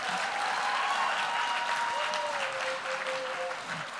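An audience claps steadily for a poet at a youth poetry slam, a sustained wash of applause with a faint whistle-like tone running through it.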